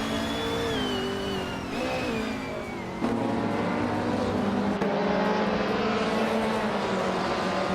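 A 2018 Ford Mustang GT4 racing engine howling at high revs, with gear changes shifting the pitch, a loud sustained drone close by with no talk.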